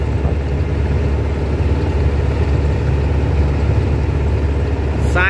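A loud, steady diesel engine of a 912 truck running close by, a constant low rumble that holds level throughout with no voices.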